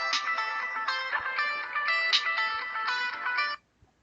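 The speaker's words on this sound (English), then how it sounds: "Sorry, I've got a phone call." A phone ringtone plays during an incoming call, a bright electronic melody of repeated tonal notes for about three and a half seconds before cutting off abruptly, alone and close.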